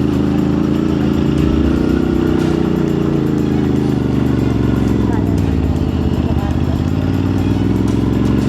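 A motorcycle engine labours loudly and steadily on an uphill trail climb on Mt. Ugo, carrying a rider and a back passenger, its low droning note constant throughout with voices talking over it.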